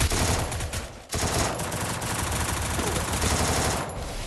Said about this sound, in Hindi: मैं फायर पे फायर करे जा रहा हूँ